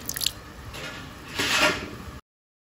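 A spoonful of cornflour stirred into a little water makes a brief, close, wet squishing swirl that swells for about two seconds and then stops abruptly.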